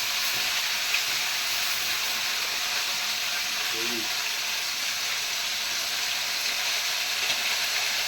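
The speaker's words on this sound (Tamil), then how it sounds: "தேங்காய் வதக்கலாம்." Grated coconut sautéing in a hot pan for tomato chutney, giving a steady, even sizzling hiss that runs throughout at a constant level, with a faint voice briefly audible underneath.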